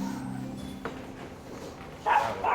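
A raccoon dog gives a couple of short, sharp barks and yips near the end, close by, after a stretch of quiet background noise.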